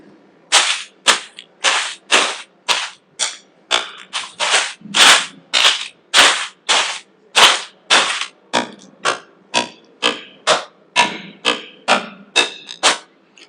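Predicted sound of a stick striking leaves and dirt: around thirty sharp, evenly spaced hits with rustling, crunchy texture, alternating between crisp leaf swishes and duller earthy thuds, close and fairly loud.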